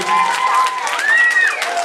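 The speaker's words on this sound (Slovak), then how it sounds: "A ešte väčší potlesk, ešte väčší." A talent-show crowd keeps up a thick, even round of applause, with a voice sliding loudly above the clapping for the whole brief moment.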